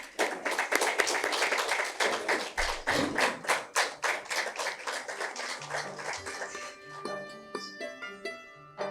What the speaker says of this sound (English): So I would like to welcome him onto this stage with a round of applause